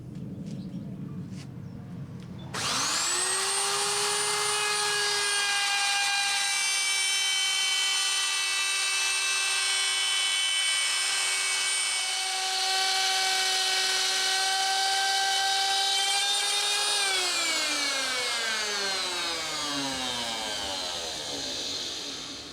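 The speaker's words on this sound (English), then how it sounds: "with a 1/4 inch router bit, we're going to trim off all this excess on the curve" A router with a 1/4 inch bit trims excess wood along the curve of a wooden slot car track, starting after a few short knocks and holding a loud, steady high whine for about twenty seconds before spinning down.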